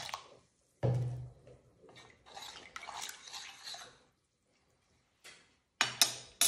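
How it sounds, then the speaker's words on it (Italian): Water poured into bread dough made with poolish and dissolved yeast, close splashy pouring and sloshing bursts separated by short silences. "Aggiungo altra acqua."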